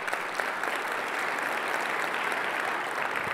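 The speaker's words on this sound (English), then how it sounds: "so let's give them also a quick round of applause." An audience at an open-source technology conference keynote applauds, a dense, steady wash of clapping from a large hall that lasts throughout.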